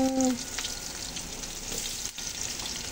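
Ginger and onion hit a hot pan with an immediate close sizzle that settles into a steady frying hiss, with a brief tonal ring at the start.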